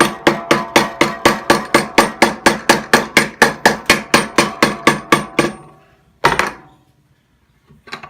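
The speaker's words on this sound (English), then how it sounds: "tap it with a non-metallic handle or a hammer, something like this, to just get" Hammer tapping a part to fit on a sailboat during a propane heater installation, about twenty rapid, evenly spaced sharp knocks, followed by a pause and one louder single strike.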